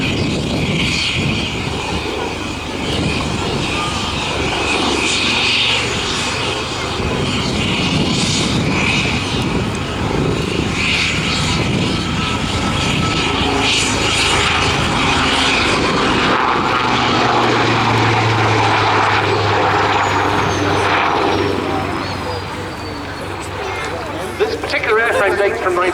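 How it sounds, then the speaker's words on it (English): A Westland Lynx AH-7 helicopter, built in 1980 as a Lynx AH-1, flies a public display at RAF Cosford Airshow, making a loud continuous rotor and engine roar that swells and fades as it passes, with commentary talk over it. "the Westland Lynx AH-7 of historic helicopters giving its first public display in civilian hands"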